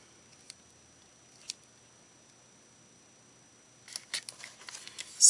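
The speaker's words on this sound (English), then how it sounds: "I'm going to tape because I think it's easier to control." Tape being pulled and pressed onto a paper sewing pattern: a couple of isolated faint clicks, then a cluster of crisp crackling, tearing bursts close by near the end, with no talking.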